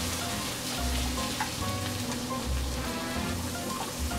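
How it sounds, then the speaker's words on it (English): Cleaned number-one grade crabs sauté in a hot pan, giving a steady dense sizzle with crackling spatter that runs throughout at close range, with no talk over it. "Sauteing this all together like that."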